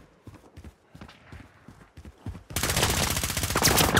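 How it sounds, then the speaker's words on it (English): Gunfire in Call of Duty Warzone in Verdansk, scattered single shots and footsteps at first, then a sudden loud, dense stretch of rapid automatic fire for the rest of the clip. "Someone's shooting at me."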